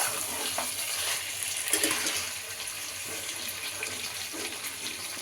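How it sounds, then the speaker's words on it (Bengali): Water poured into chicken curry cooking in a pan, a steady close rushing splash that runs unbroken and fairly loud throughout. "তাই আমি অল্প একটু জল অ্যাড করব"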